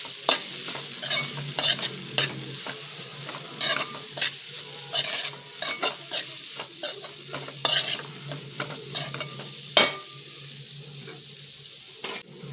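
Ivy gourd curry frying in a pan and stirred with a utensil: repeated close scraping and clinking strokes in an uneven rhythm over a soft, continuous sizzle, with no talking.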